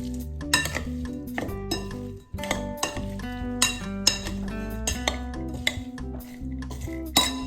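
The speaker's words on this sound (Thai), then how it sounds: "ตามด้วยต้นหอมผักชีนะคะ คลุกให้เข้ากันนะคะ" Spicy chicken salad being tossed with scallions and cilantro, utensils clinking and scraping against a bowl in a steady run of clatters, close and fairly loud, with a low hum behind and no talking.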